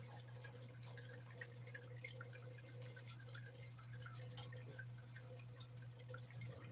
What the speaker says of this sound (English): Getting this muddy water all over my floor.